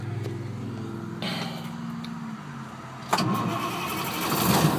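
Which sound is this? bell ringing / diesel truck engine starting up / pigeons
diesel truck engine starting up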